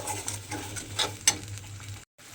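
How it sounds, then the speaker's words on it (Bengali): Spice paste for an okra dish being stirred and fried in a pan, a soft continuous sizzle with light scraping strokes and a couple of brief clicks, close by and without talk. "মশলাটাকে একটু কষিয়ে নেব দেখুন এইভাবে কিন্তু মশলাটা একটু সময় কষিয়ে নিতে হবে"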